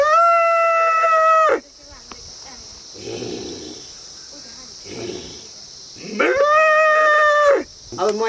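A man imitates a cow's moo with his voice: two long, loud, sustained lowing calls separated by a few seconds of quiet breathy sounds.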